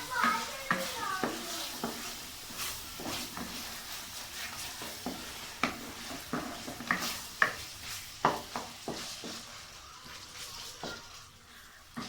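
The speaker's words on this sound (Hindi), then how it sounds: "इसे मैं 5 मिनट तक अच्छी तरह फ्राई करूँगा। ये देखें, मैं इसे अच्छे से जो है वो भून लूँगा।" Bhindi chicken masala being stir-fried in a pan, a low sizzle under repeated rhythmic clacks and scrapes of a spatula against the pan for several seconds, close and clear.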